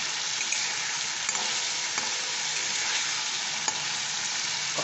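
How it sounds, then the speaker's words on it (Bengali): Eggplant frying with spices in oil for a Bengali doi begun curd dish, a steady dense sizzle close by with occasional stirring scrapes and pops, no talk. "এর সাথে আমি কষবো, বেগুনটার সাথে কষলে কি বেগুনের ভেতরে ওই মশলাগুলো ঢুকে যাবে।"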